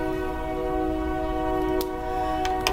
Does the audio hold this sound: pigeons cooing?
no